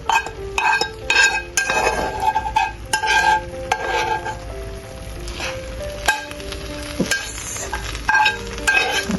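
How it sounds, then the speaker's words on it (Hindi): Melted ghee goes into cooked Mianwali mash dal in a pot, with a spoon stirring, clinking against the metal and a soft sizzle, close and steady, with no talk. "इसमें हम डालते हैं और घी डालेंगे। देखें, घी को थोड़ा सा मेल्ट कर दिया है।"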